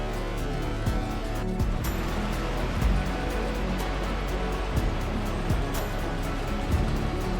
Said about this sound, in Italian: per ascoltare il mare